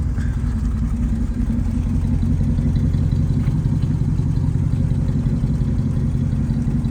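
A 1964 Lincoln Continental engine idling steadily, a low, smooth rumble with a faint mechanical clatter, heard close and unbroken.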